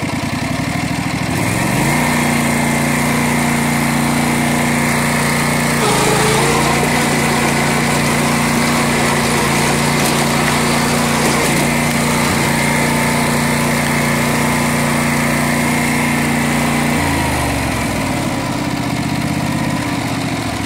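A 16hp Craftsman lawn tractor engine runs steadily at close range, loud and continuous, with a brief rev partway through before settling back to a constant drone.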